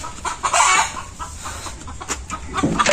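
Domestic chickens cluck in a large coop at home, a dense, close chorus of overlapping clucks and squawks that continues loudly throughout without talk.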